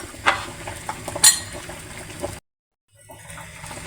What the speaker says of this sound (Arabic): وهنا بقى خدت نص كوبايه ميه بنجر اللي سلقنا فيها البنجر